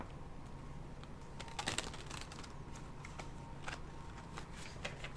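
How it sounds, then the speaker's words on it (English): A tarot card deck is shuffled close by, a quiet run of soft riffling clicks and taps with a brief louder flurry partway through, no talk. "I gotta shuffle it again."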